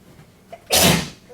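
A single sharp sneeze bursts out in a lecture room during a computer science class, loud and close. A faint short sound comes just before it, and it is followed by quiet room tone.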